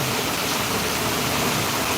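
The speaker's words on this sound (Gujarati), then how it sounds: "ફૂલ વરસાદ આવી રહ્યો છે" Heavy rain pours in Amreli in a steady, dense roar with no breaks, loud and close.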